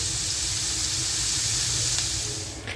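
Onion and carrot frying in a pan give a steady, loud, close sizzling hiss that holds evenly and eases slightly at the end.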